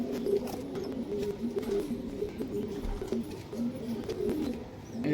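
Breeding pigeons at a loft coo continuously in low, throbbing calls, several birds overlapping at moderate volume with no voices over them.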